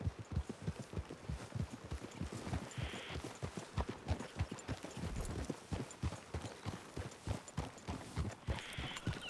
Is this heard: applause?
no